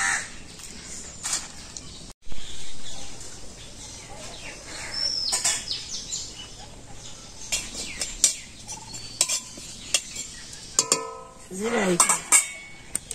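Taro and fish are chopped and handled for a village meal, with knife-on-board knocks and clattering dishes in uneven bursts, while crows caw loudly nearby and other birds call across an open outdoor setting.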